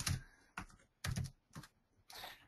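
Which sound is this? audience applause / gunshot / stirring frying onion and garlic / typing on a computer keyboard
typing on a computer keyboard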